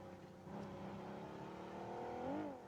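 A motorbike engine in BGMI hums steadily and then revs upward near the end, a continuous droning motor without talk, moderately close.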